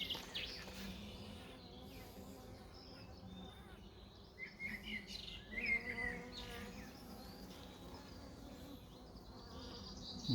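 Steady buzzing of many honeybees at a hive, a dense continuous drone close by with some brief higher chirps layered over it.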